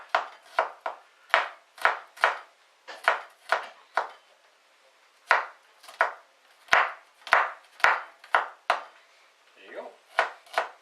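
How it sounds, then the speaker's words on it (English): Garlic cloves chopped with a knife on a board while making chicken chow mein, a steady run of crisp, close knife strikes in quick bursts with a short pause midway. "2 cloves of garlic, fairly standard, just chop it into small pieces"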